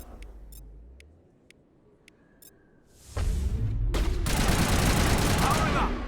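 Gunfire from the video game Mass Effect: Legendary Edition, a few sharp clicks, then a sudden loud sustained burst of rapid shots and whooshing effects filling the second half.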